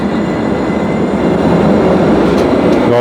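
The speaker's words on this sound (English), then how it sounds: "here you can see one of the trains going" A Jerusalem light rail train rumbles past close by, a continuous loud rolling roar with faint metallic clicks from the wheels.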